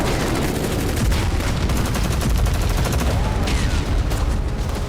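Mortar and gunfire during fighting in Kharkiv, Ukraine, form a dense, loud barrage of rapid overlapping blasts and cracks that keep going without a break, close and harsh.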